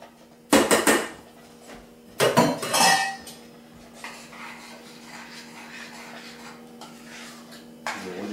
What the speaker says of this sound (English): And we just want to stir that in there so it blends good.